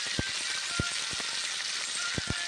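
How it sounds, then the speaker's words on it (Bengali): Cabbage fries in a pan with a steady, bright sizzle running throughout, broken now and then by a few soft low knocks and taps, heard close up with no voices. "ভেজে নিচ্ছি এখন বাঁধাকপিগুলোকে।"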